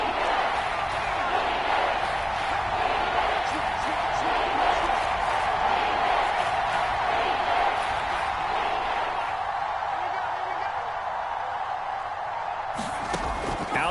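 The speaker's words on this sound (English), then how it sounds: "The crowd getting into it as we come up on a big 3rd down." Steady, dense roar of a football video game stadium crowd building ahead of a big third down, a broad continuous wash of cheering that holds loud throughout before easing slightly near the end.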